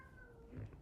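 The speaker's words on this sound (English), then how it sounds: "it's a cat that we have right outside the door. He's annoyed that I closed the door." A cat just outside a door lets out a single short, faint, rising-then-falling meow, heard alone.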